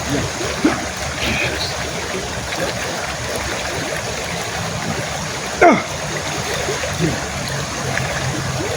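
River water flows steadily in a continuous broadband rush, with a few louder splashes or knocks standing out against the stream and some faint voices in the background.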